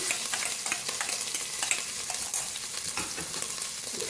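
A steady, loud sizzle of garlic ginger paste frying in hot oil, with faint stirring scrapes running through it and no voices.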